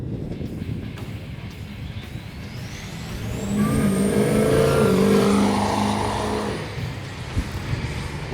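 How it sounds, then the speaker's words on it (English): A drag racing truck roars down the track, its engine swelling loud as it accelerates past and then fading, with a rising whine and a hiss near the end. "West Beach accelerates through 300 feet, lifts, and he's just going to motor down the top end of the racetrack"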